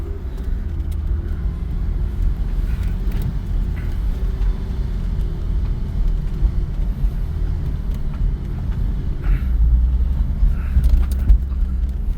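A 2008 Cadillac CTS with about 250,000 miles climbs a very steep driveway, its engine giving a steady low rumble with road noise that swells slightly toward the end, heard from inside the car.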